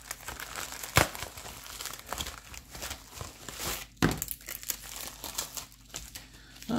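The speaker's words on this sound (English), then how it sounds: "Next one up is another poly mailer, which hopefully I can tear into easier than the" A plastic poly mailer is torn open and handled, loud crinkling and crackling with sharp rips and rustles at close range.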